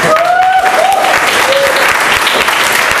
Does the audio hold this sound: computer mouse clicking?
no